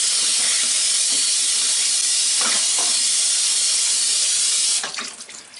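Strawberries are rinsed under a running kitchen faucet, a loud, steady, close hiss of water with faint splashes and knocks as the fruit is handled. The flow tapers off at the end.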